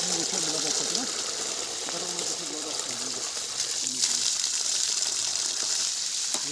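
Water gushes steadily from a 1 hp, 10-stage submersible pump drawing from 200 ft, a continuous broadband rush heard up close, with people talking over it.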